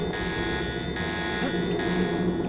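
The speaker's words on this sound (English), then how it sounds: "wait for the alarm to die down" Alarm in Deus Ex, a steady electronic buzzing drone with sustained harmonic tones that holds constant across the short stretch, with faint background game noise beneath it.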